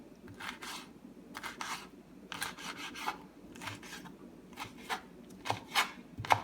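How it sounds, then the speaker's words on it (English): Knife slicing roasted peppers into strips for spaghetti con rajas on a cutting board, a series of short, soft rasping cuts at an irregular rhythm, close and fairly quiet, with no talking. "you just want to go ahead and cut them in strips."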